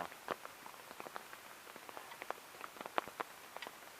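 Rain falling during a stormy camping trip in the North Florida Panhandle, scattered faint drops tapping on a nearby surface at an irregular pace over quiet background hiss.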